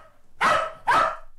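A leashed dog barks angrily at a cat perched on a stone: two loud, close barks about half a second apart, alone with no talk.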